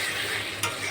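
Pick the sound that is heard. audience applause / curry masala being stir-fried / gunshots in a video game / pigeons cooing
curry masala being stir-fried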